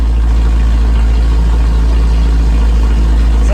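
A 1987 Toyota van's engine runs steadily with a loud exhaust whose low, constant drone stays close and continuous throughout, with no voices over it.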